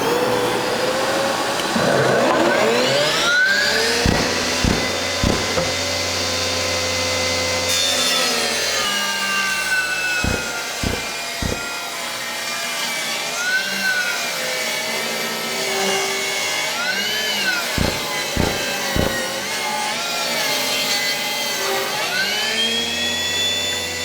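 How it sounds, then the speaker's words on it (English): Metabo HPT multi-volt 10-inch table saw rips through wood, a loud steady whine of the blade under load with its pitch bending as the cut progresses and several short sharp knocks along the way, no talking. "Let's go ahead and rip some material."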